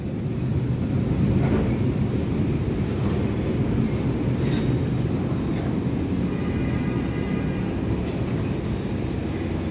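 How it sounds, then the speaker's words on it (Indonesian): The Argo Semeru night train rolls into track 4 at Jatinegara station with a steady rumble of wheels on rails and a long high squeal of braking wheels, no voices. "Keretanya masuk di jalur"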